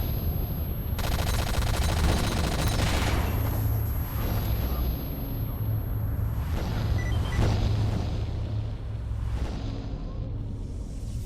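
Gunfire in S.T.A.L.K.E.R. Shadow of Chernobyl, rapid automatic bursts and several heavy booming shots in an echoing space, loud and close with decaying rumbles between volleys, no talk.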